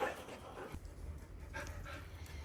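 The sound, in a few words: dog panting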